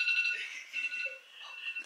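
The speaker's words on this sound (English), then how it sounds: "That's my alarm." A phone alarm rings in a room, a steady electronic tone with repeating beeping pulses held at moderate level throughout, without talk.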